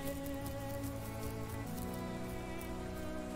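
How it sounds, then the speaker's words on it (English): Steady rain falls in the Path of Titans dinosaur video game, a dense, even patter heard close and continuous under sustained background music tones. "the rain starts to become an irritation as it starts to come down harder"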